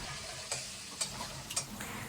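Onions with chilli, turmeric and cumin sauté softly in a pan, a low continuous sizzle broken by a few light spatula taps against the metal.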